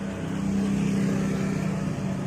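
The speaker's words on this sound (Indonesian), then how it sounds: "Nah, ini ada kendaraan." Motor vehicle passing on a road at night, a steady low engine drone with a faint hum, moderately distant and continuous throughout, no talking.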